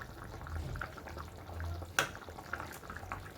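Taro and prawns simmer in a pot of liquid, giving a faint, steady bubbling hiss with one sharp click partway through.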